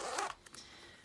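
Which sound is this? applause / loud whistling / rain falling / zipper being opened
zipper being opened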